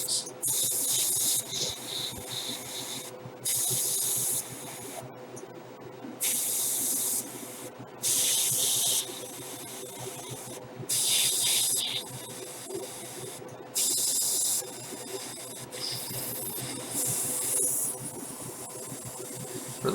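Airbrush spraying black and dark gray paint onto parts of an MG ZZ Gundam model kit, a series of soft hissing bursts of a second or two, separated by short pauses, over a faint steady compressor hum.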